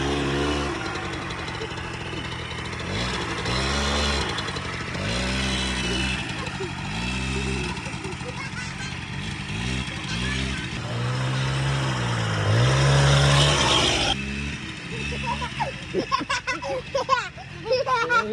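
A free Suzuki LT80 ATV that sat outside with a blown-up engine revs in repeated rising and falling bursts. The engine is close and steady under frequent talk, and the revs climb higher near the end.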